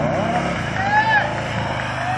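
A Harley-Davidson police motorcycle pulls away at the start of a 400 m police riding-skills final at a security industry expo, its engine a steady, fairly close rumble with a rising whine, while an announcer talks over it.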